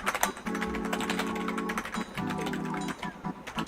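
Keys clattering on a computer keyboard in quick irregular taps, close and moderately quiet, with a steady electronic tone running underneath and no talking.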